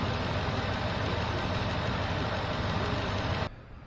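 A 2013 Ford F-150 with the 5.0 Coyote V8 runs steadily at a fast idle through a water pump and O-ring job, a close, constant low engine drone that cuts off abruptly near the end.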